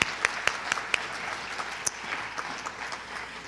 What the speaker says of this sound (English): I'd love to give her a great big round of applause